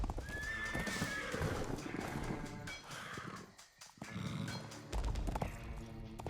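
Horse whinnying loudly over steady clip-clopping hooves, a storybook sound effect for a rider arriving in a deserted village, with no voices over it.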